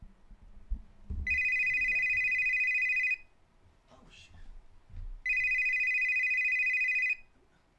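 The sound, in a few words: telephone ringing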